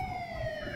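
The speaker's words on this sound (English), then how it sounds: "police came screeching around the corner, sirens blazing" Police car siren wailing as squad cars screech around a corner, a steady rising-and-falling tone heard alone over a low rumble of traffic, brief and moderately loud.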